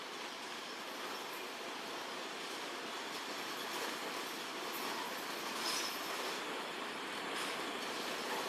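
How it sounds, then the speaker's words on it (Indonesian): A Kyosan Kogyo sugarcane railway locomotive hauling empty cane wagons crosses a long bridge over the Sampean River in Situbondo, a steady, dense rumble of rolling wheels and rattling cars heard from close by without pause. "kali ini lokomotif melewati jembatan ya, jembatan yang panjang, jembatan yang melintasi Sungai Sampean Situbondo"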